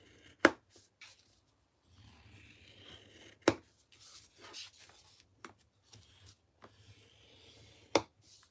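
Paper for an Easter basket is scored on a scoring board, giving quiet scraping strokes broken by several sharp snapping clicks, close and fairly faint, with no talk.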